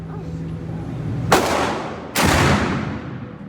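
Two loud pistol gunshots ring out at a firing range during concealed carry training, spaced under a second apart, each a sharp blast followed by a long echoing decay over steady background noise.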